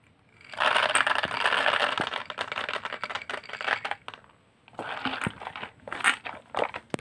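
Peanuts are stirred into a thick batter, making a dense, close crackling and clicking churn in two bursts separated by a short pause.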